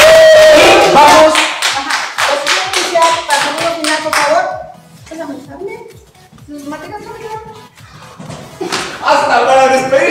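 A group claps in steady applause to close a fencing exhibition session at a virtual university sports welcome festival; the loud clapping fades after a few seconds and gives way to people talking.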